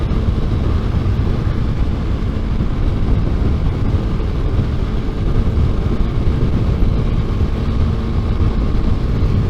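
A 2018 Honda CB300F motorcycle engine pulls hard in sixth gear, a loud continuous low drone mixed with rushing wind noise, constant throughout without pauses.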